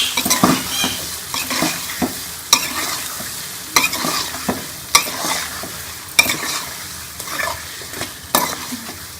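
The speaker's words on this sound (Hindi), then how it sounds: "अब इसके अंदर ये आलू डाल के इसको भी हम मसाले में अच्छी तरह से भून लेंगे।" Potatoes frying in masala in a pan, a steady sizzle broken by repeated sharp scrapes and knocks of a spoon stirring at a regular pace, close and clear, with no talking.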